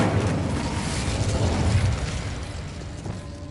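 A fiery Incendio spell cast in Hogwarts Legacy, a loud continuous roaring, crackling burst with heavy low rumble that holds steady for several seconds before easing slightly toward the end.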